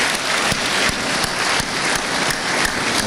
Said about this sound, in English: give him a very special round of applause for all his work and dedication